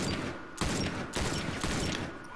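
Heavy gunfire in The Last of Us Remastered Factions multiplayer, several sharp loud reports landing roughly every half second over a continuous noisy battle bed, with no talking.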